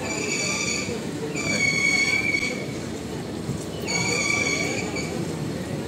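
A train pulls into platform three at Eluru railway station, a continuous loud rumble of wheels under repeated high-pitched brake and wheel squeals that rise and fade twice as the carriages roll in.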